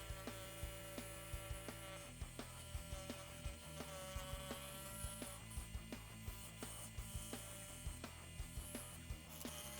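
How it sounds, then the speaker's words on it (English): An inverted jigsaw fitted with a scroll saw blade and run at lower speed cuts through wood, giving a steady mechanical buzz punctuated by regular sharp ticking strokes, faint throughout. "I switched the blade out for a scroll saw blade, and then I lowered the speed on the jigsaw to see how well this performed."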